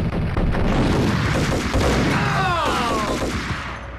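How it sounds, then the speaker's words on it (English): Sustained assault rifle gunfire in the video game Max Payne, loud and continuous bursts of rapid shots with sharp ricochet-like whines near the end, no talk over it. "I'm gonna have to bring out the assault rifle."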